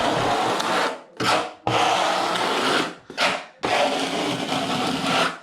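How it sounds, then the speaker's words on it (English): Plastering trowel spreading waterproofing adhesive into a shower corner, heard as loud, close scraping and smearing strokes, three long passes separated by two brief gaps. "take your plastering trowel and give that a nice push in the corner and a nice feather through."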